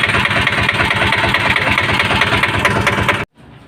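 A Piaggio Ape auto-rickshaw engine runs steadily at idle after a rocker adjustment, giving a loud, close, even chugging throb for about three seconds before cutting off abruptly.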